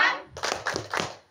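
Rhythmic hand clapping during an outdoor Easter church service chant, with a short burst of about three or four quick claps following a brief opening sound, close and clear.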